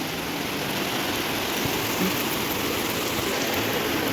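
Heavy rain pours down in a dense, unbroken roar of hiss, loud and constant throughout with no pauses.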